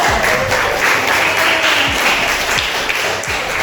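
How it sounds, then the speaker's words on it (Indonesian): Applause from a classroom audience during a teacher performance assessment session, steady dense clapping that fills the whole stretch at close range, with no talking over it. "Beri aplaus untuk Salma."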